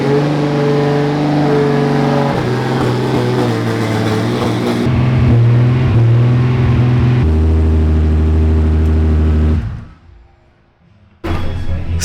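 Toyota GR86 running a 2J engine, revving hard and loud nearby through sustained high-rpm pulls with pitch shifts between them, then dropping off sharply near the end before a final burst.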